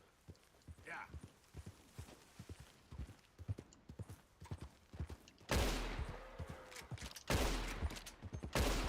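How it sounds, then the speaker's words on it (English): In the Red Dead Redemption 2 video game, horse hooves clip-clop in a steady rhythm while a rapid series of gunshots is fired from horseback. A person talks over parts of the gameplay sound. "This horse is amazing to let me shoot that many times on its back."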